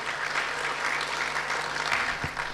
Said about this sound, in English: Can we give Phil and Bookham Dano a nice round of applause for all this lovely wine on the table?